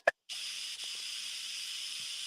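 After a short sharp click, a strong steady hiss of steam released from cooking pork chops and red peas with rice begins and continues unbroken, loud and close.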